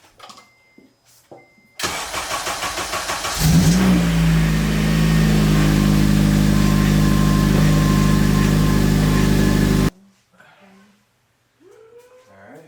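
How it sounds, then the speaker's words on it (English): A repaired Acura TSX engine cranks with a rapid, loud churning for a couple of seconds, fires up and settles into a steady, close idle before the recording cuts; brief faint sounds precede and follow it. "So, it fired right up as you guys heard. Crank, crank, crank. Started up."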